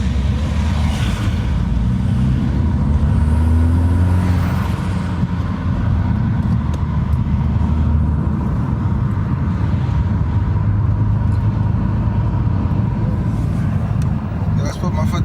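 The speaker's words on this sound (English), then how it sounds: "So we're gonna drive around in sport mode and let you have a little listen." A Mini Countryman S is driven in sport mode, its engine and road noise a steady, fairly loud rumble from inside the cabin, with the engine note rising and falling gently across the drive.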